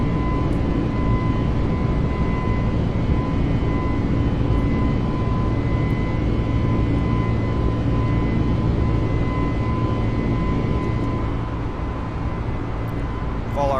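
Airbus A320neo on a Frontier Airlines flight climbing out of Denver just after takeoff with its landing gear retracting, heard as a loud, steady engine roar with a sustained tonal whine throughout and no pause.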